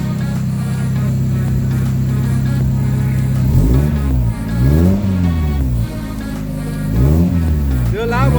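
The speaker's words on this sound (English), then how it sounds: "This is what it sounds like from the back." A 1993 Mazda Miata engine with new CX Racing headers idles with a deep, rumbly burble, then revs up sharply several times, each rev rising and falling, heard close from the rear.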